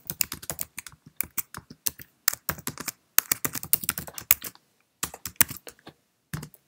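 Rapid bursts of keystrokes clatter on a desktop computer keyboard as a tweet caption is typed, close and crisp, broken by short pauses between words.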